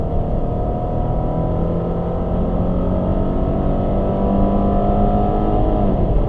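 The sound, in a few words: car engine revving to the red line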